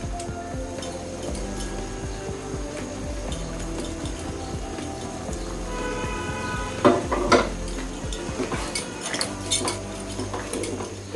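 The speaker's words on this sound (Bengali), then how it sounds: "এবারে আমি চিকেন এবং ক্যাপসিকাম অ্যাড করে দিচ্ছি" Chicken and capsicum go into a metal pan for baked pasta with Alfredo sauce, with scraping and clinking utensils against cookware, a low steady cooking hiss underneath, and a louder clattering burst partway through.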